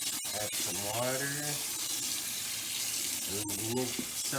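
Water poured into a tote to soak microgreen seeds, a steady splashing pour throughout while a person talks over it.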